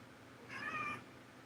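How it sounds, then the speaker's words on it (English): A house cat gives a single short, clear meow, moderately close, over a quiet room background. "Friendly Patel, was that a cat?"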